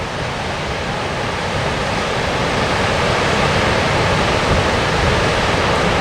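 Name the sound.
waterfall in El Dorado National Forest, California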